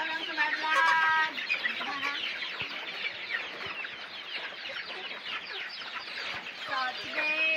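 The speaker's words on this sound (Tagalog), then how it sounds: "Tara, ipakaan na sa pagkakaan ng mga manok." Free-range chickens clucking in a dense, continuous chorus, with overlapping calls from several birds close by and a few sharper squawks rising above the flock.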